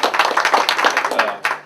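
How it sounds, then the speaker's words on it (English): Short burst of hand clapping for WWII veterans at a Pearl Harbor Day salute, close and uneven, a smattering of claps that trails off after under two seconds. "I got to applaud each and every one of you"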